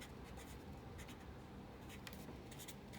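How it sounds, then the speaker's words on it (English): A pen or pencil writes numbers by hand, making faint, close scratchy strokes in short bursts against quiet background. "So I'm going to write it over here."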